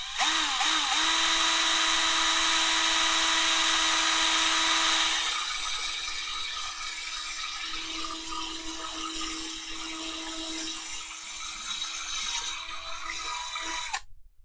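A drill bit bores into brass for a dual 18650 mod build, giving a high, steady whine that is loudest in the first five seconds, then eases to a lower, rougher grind before cutting off near the end.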